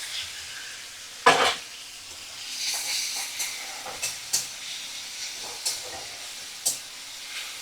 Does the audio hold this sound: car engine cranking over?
no